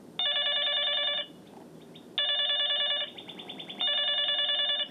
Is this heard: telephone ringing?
yes